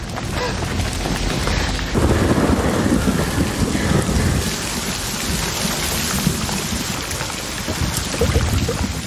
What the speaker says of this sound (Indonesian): Hujan pun mulai turun.